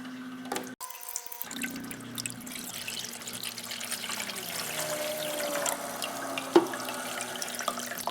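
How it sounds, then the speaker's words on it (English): Water pours steadily into the reservoir of a hydroponic growing system with a pump, a continuous close splashing trickle with a brief clunk near the start and a small knock later. "So I'm adding some water into it."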